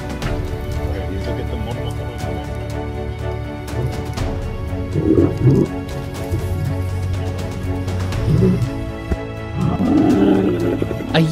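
Lions in South Africa fight over territory, two older males attacking a younger one, with loud deep roars and snarling growls surging in bursts over a steady rumbling background.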